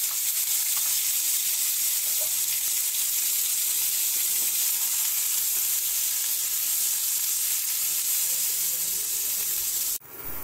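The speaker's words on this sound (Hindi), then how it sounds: "ये है बॉइल्ड पोटैटो, इसको पहले थोड़ा सा फ्राई करूंगी।" Boiled potatoes frying in oil in a kadhai give a loud, constant, close hissing sizzle with only slight scrapes, running steadily for about ten seconds before cutting off abruptly, with no talking.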